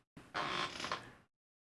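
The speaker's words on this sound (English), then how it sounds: "Squeaky chair." A squeaky chair gives one drawn-out creak, close and fairly loud, with nothing else around it.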